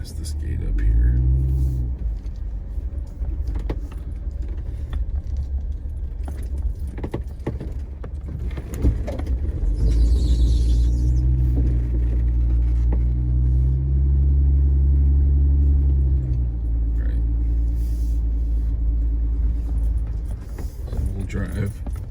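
A car drives along a rural property road, a steady low rumble and road noise throughout with a light rattle like jangling keys, while someone talks over it.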